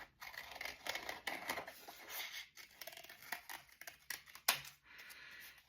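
Scissors cutting construction paper for a paper craft dragon, a quick run of crisp snips and rustling paper, close and steady with short gaps, no speech.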